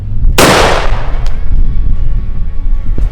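A Desperado black powder 12 gauge pistol loaded with shotgun wads and pellets fires one loud, close blast outdoors, followed by a long rumbling decay over wind noise.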